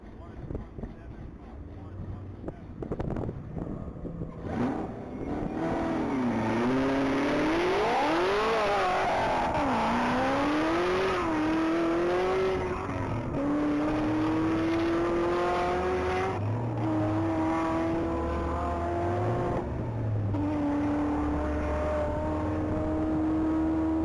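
A silver 2018 Chevrolet Camaro ZL1 launches and accelerates hard on a top-speed mile run at a racing event, its loud engine note rising through repeated gear changes with wind buffeting, and a commentator talking over it.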